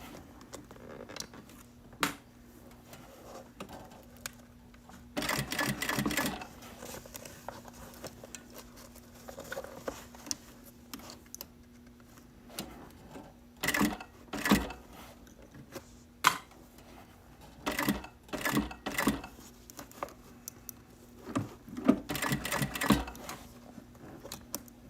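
A sewing machine stitching a pack near a D-ring, running in short bursts of rapid needle chatter separated by quiet pauses and small handling clicks, close and without talk.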